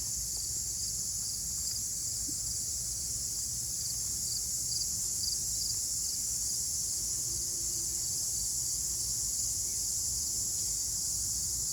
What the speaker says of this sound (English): So we got quite a chorus of bugs going on.